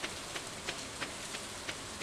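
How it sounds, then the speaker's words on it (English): Steady soft hiss of rain falling in the farming video game Stardew Valley, quiet and even, with faint periodic brighter patters recurring about every third of a second. "You might notice that with these raindrops, they're coming down horizontally, or like diagonally."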